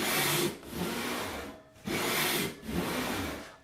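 Hand saw resawing a board by hand, long rasping push strokes with brief pauses between them, close and fairly loud, no talking.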